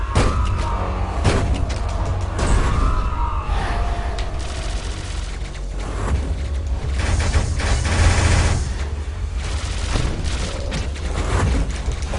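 Boss bullet-storm gunfire in the action game Hyper Light Drifter, dense rapid bursts and booming impacts, loud and continuous throughout.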